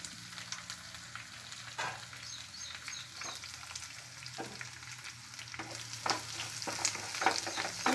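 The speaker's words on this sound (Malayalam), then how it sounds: "ഒന്ന് വഴറ്റി കൊടുക്കുക" Chopped banana flower and onions sautéed in a pan, a low sizzle broken by scraping stirs and spoon clinks, close but fairly quiet, rising toward the end, no speech.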